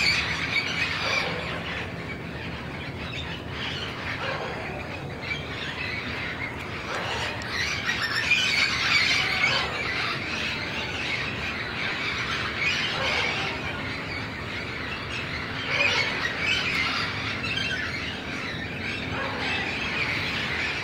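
Wild parrots in Guadalajara, Mexico, squawk and screech in repeated raucous bursts from a flock, the harsh calls overlapping and rising and falling steadily.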